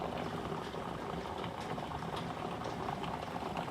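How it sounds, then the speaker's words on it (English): Heavy rain pours down steadily during a thunderstorm, a dense, even hiss that holds constant from start to finish with no voices over it. "And pouring it down with rain."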